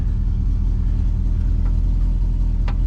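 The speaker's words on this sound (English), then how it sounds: "the engine is definitely turning over" A flathead car engine turns over in a garage, producing a loud, close, continuous low rumble that holds steady throughout with a couple of faint higher squeaks near the end.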